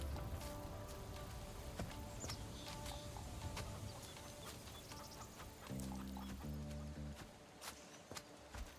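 Chickens clucking inside the video game Corepunk, set among busy game ambience with footstep-like taps and a brief low tonal passage near the end, the clucks mixed steadily into the continuous background.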